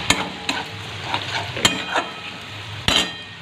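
Spices and masala fry in a pan with a soft, steady sizzle, while a utensil scrapes and clinks against the metal several times at irregular intervals, a couple of knocks standing out louder; no one speaks.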